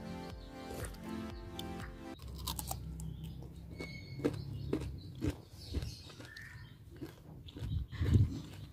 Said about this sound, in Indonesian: Jadi ini mangganya masih kriuk banget dan masih enak banget.